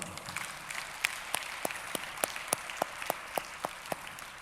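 A congregation at a Spanish-language church service applauds, with a soft wash of crowd clapping behind a series of sharp, evenly spaced claps close by, steady for several seconds.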